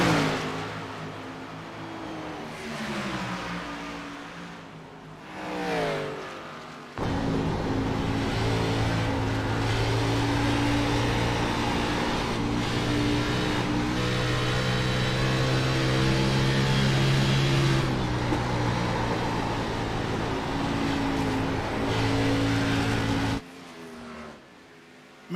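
Xfinity Series stock cars racing on the Monster Mile oval in a video game, loose wheels fighting for grip: steady loud engine drone with shifting harmonic whines as cars pass, rising and falling, ending abruptly.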